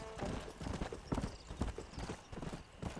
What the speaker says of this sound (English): I need to stop speeding my horse along too much.